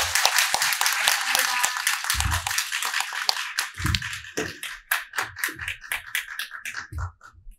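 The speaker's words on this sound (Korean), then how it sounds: "오늘 아주 좋은 강연을 해주신 김주희 대표님께 다시 한번 큰 박수 부탁드립니다." Clapping for a lecturer after a talk on next-generation peace and unification leaders, dense at first and then thinning into scattered individual claps with a few low thumps and brief murmurs among the audience.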